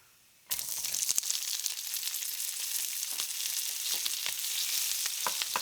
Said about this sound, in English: fry the cinnamon stick, the cloves, the bay leaves, and the seeds from 4 cardamom pods